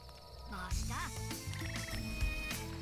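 Cartoonish frogs croak in Worms Revolution, several throaty, warbling calls overlapping against background game music, loud and close.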